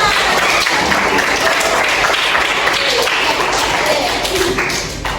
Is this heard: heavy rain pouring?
no